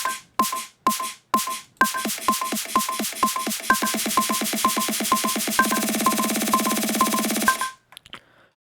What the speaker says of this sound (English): now we've got our snare build-up pattern, which sounds like this